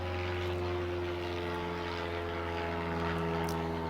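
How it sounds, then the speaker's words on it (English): A propeller-driven biplane drones steadily overhead, its engine hum continuous and fairly loud with no talking. "And there's the biplane again."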